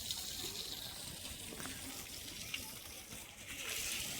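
Water spraying steadily from a hose to cure new construction work, a continuous hissing spray heard close and unbroken for the whole stretch, with no talk over it.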